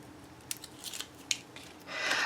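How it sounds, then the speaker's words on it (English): Score tape peels off the side of a Heartfelt Creations Wild Aster paper craft album: a few small, close ticks and crinkles, then a longer, brighter rasp as the strip pulls free. "I'm going to remove the score tape from the side here."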